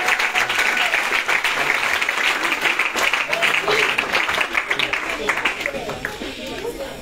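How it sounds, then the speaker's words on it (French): An audience at a church anniversary celebration claps and cheers loudly for the Écodim children, continuous applause with a voice speaking over it. "On acclame les enfants d'Écodim."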